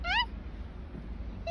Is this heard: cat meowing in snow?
yes